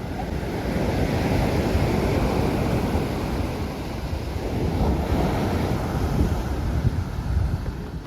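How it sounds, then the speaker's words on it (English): Steady roar of ocean surf at the Outer Banks, Hatteras, mixed with gusty wind buffeting the microphone, loud and continuous with no voices. "it's very noisy because it's very windy there and also of course the ocean"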